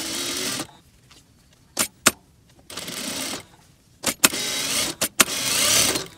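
A sewing machine stitches a sweatshirt hem in short bursts of rapid, whirring mechanical clatter, separated by quiet gaps and a few sharp clicks, close and fairly loud.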